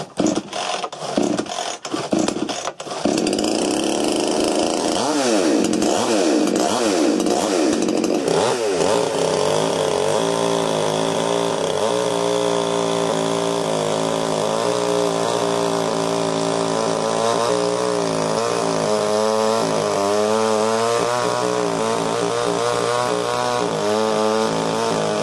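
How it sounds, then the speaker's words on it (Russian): A petrol chainsaw, its starter spring just replaced, is pulled several times with rapid rattling starter cord yanks. It then catches and runs, revving up and down before settling into a loud, close, continuous engine roar. "И после этого проверим, как работает стартер бензопилы."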